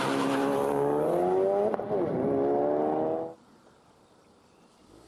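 A car launches hard with its engine note climbing steadily through the revs for about three seconds, loud and close, then drops away abruptly into near quiet.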